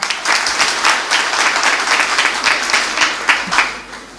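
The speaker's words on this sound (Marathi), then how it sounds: "आवडलं असेल तर जरा टाळ्या वाजवा" Dense, sustained applause from an audience at a Marathi community gathering, many hands clapping together at a steady roar with slight swells, close and loud throughout.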